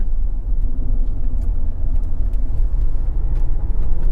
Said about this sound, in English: We can just kind of hear the noise of the road.